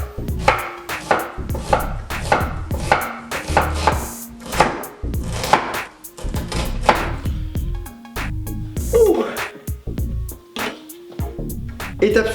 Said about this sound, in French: on va prendre notre oignon et on va l'émincer finement